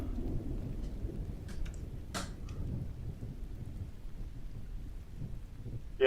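Continuous thunderstorm ambience from a storm sound generator: steady rain hiss and low rumbling thunder filling the room throughout, with a few brief sharper crackles, moderately loud and unbroken.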